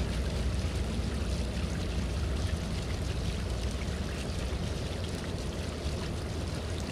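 Water pours and rushes steadily in the game Reprobates, a dense continuous hiss with a low rumbling body, even in loudness throughout and unaccompanied by voices.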